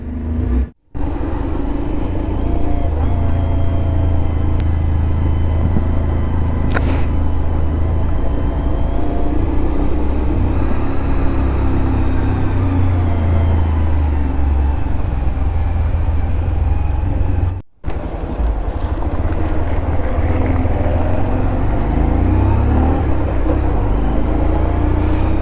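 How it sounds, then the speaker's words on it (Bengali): A rented Hunter 350 motorcycle idles after starting on a rainy hill road beside a toy train line near Mirik. Its loud, steady engine drone runs close and continuous, dropping out twice very briefly. "তো প্রিয় বন্ধুরা, বাইক স্টার্ট হয়ে গেছে।"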